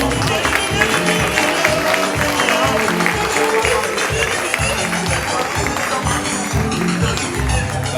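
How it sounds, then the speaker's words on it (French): Dense, sustained applause from a fashion show audience at a wax-fabric runway event, L'Afrik Dan Ker 2018, loud and continuous with a thumping music beat underneath. "Applaudissements donc pour monsieur Tilou"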